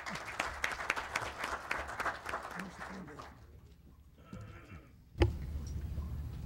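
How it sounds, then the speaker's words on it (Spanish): A seated audience applauds Dr. Cordero Michel at an evening lecture on Dominican independence, with dense, close clapping for about three seconds that thins and fades into a quiet room, followed by a single sharp knock. "Un aplauso para el doctor Cordero Michel"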